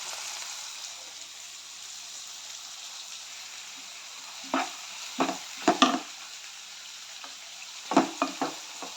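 Ginger, green chili and garlic fry with curry leaves for a Kerala beef roast, a soft steady sizzle beneath several louder clattering stirs and scrapes in short bursts, nobody speaking.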